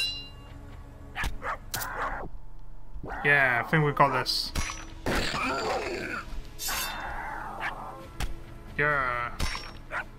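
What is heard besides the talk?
dog barking in Pixel Piracy video game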